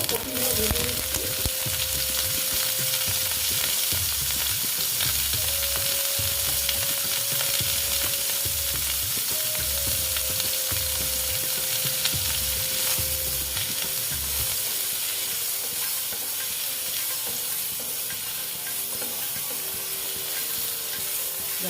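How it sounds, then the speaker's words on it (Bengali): Cauliflower pieces frying in hot oil in a pan, a loud continuous crackling sizzle heard close, with a rhythmic stirring pattern early on that fades to a steadier hiss toward the end. "এটা আমি তেলটা দিলাম আর কপিগুলো ভেজে নেব দেখো"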